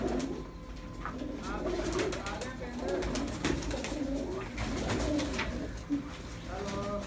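Several fancy pigeons from a prized pair keep up a steady, throaty cooing that rises and falls, close by, while people talk continuously nearby.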